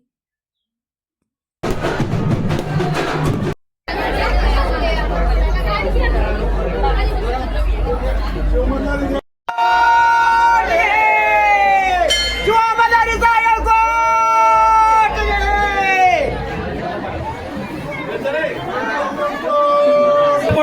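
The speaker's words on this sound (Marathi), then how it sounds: "आतमध्ये बघा बायकांची किती गर्दी आहे नागदेवे दाखवण्यासाठी" A dense crowd of women chatters inside a Khandoba temple during a yatra fair, a loud, continuous hubbub of overlapping voices with occasional shouts and calls rising above it, close around the listener.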